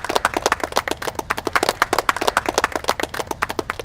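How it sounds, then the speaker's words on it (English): A boot camp fitness group in Lokhandwala claps for themselves, a steady, fairly close run of individual hand claps lasting a few seconds with no talking over it. "big round of applause for yourself"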